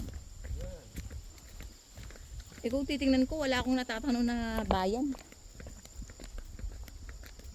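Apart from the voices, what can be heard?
horse hooves clip-clopping on road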